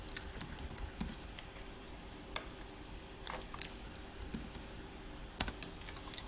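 Quiet computer clicks sound close by, with several sharp isolated snaps standing out over a faint patter of lighter taps.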